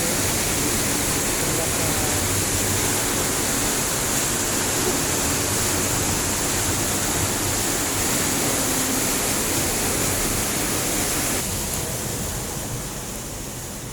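Heavy, continuous roar of water rushing over a dam on the Talakag River, loud and close, broadband and steady throughout before easing slightly at the end.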